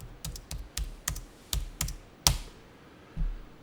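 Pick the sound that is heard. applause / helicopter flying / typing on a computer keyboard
typing on a computer keyboard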